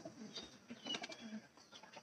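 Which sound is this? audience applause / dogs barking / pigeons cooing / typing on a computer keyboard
pigeons cooing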